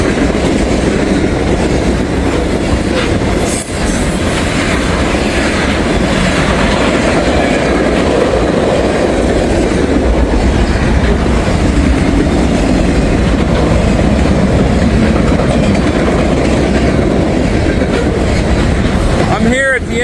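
A heavy freight train loaded with aluminum ingots rolls past close by, a loud, constant rumble of wheels and clattering cars that continues for the whole stretch, with a faint squeal near the end.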